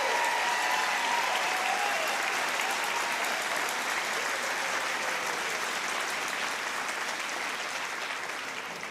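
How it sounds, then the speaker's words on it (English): A large audience at an awards ceremony claps in sustained, dense applause that stays loud throughout and fades only slightly at the end, with faint crowd murmur underneath. "Please help me with a final round of applause as we congratulate all the nominees and the winners of this year's program."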